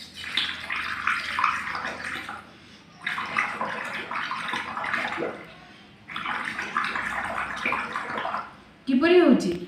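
Air blown by mouth through a tube into water, producing bursts of gurgling and bubbling in three long breaths separated by short pauses, followed by a louder burst at the end.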